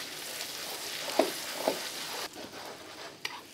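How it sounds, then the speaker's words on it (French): Green onions sizzle in a hot pan for a Japanese dish, a steady soft frying hiss with a couple of light stirring clinks. "j'ai pris des petits oignons fans que je vais venir intégrer aussi dans ma casserole"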